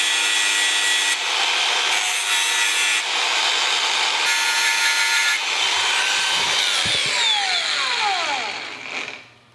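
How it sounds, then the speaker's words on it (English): A power cutting tool grinds and saws through a metal Koso clutch part for a Honda Grom, a loud continuous rasp with short breaks, then the tool winds down in a falling whine. "I have to figure out how to cut the rest of the way through now"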